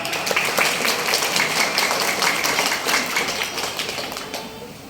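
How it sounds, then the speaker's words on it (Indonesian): Audience applause at an Islamic haul gathering and installation ceremony, a steady wash of many hands clapping at moderate distance that slowly fades over several seconds. "Tepuk tangan."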